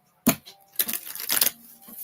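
Short bursts of riffling tarot card shuffling, a sharp flutter followed by a longer crackling riffle, close and fairly loud.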